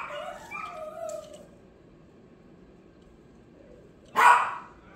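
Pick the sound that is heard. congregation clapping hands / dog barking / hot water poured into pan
dog barking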